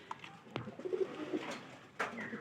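Pigeons coo softly in a loft, a few low murmuring phrases heard close by amid light rustling and a couple of sharp knocks.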